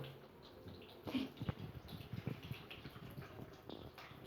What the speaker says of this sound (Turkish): Bakın buraya gevşettikçe suyun ne kadar hızlı aktığına bakalım.